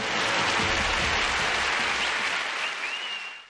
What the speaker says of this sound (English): Let's give our heroes one final cheer